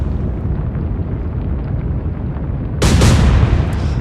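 Warship guns firing in the Atlantic Fleet naval game, a single sudden heavy blast breaking over a low rumbling background and then ringing out.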